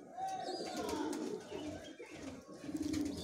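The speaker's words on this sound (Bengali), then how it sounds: "এই হচ্ছে একটি নর পায়রা আপনাদেরকে দেখালাম।" A male breeder pigeon coos in low, soft bursts, close by, with a steady background hum throughout.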